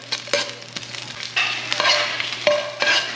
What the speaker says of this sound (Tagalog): Ito na pong gisa. Gisa-gisa. Yung ito, sibuyas, bawang.